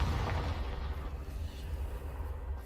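A Confringo fire spell bursts with a deep, rumbling blast in Hogwarts Legacy, a heavy low roar that fills the whole stretch and slowly trails off.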